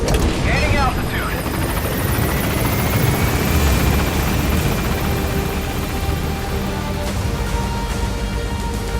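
Helicopter rotor thumping steadily and loudly as an extraction chopper climbs in a PS5 game, with a dense whooshing wash and game sounds layered over it throughout.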